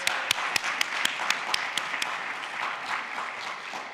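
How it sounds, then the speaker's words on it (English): A synagogue congregation applauds during a Shabbat service, a few sharp claps at first and then a steady patter of many hands in a room, moderately loud. "So let's give him an applause."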